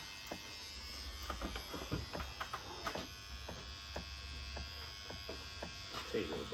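A tattoo machine buzzes steadily at low level with a needle freshly switched, while people talk casually over it in the room.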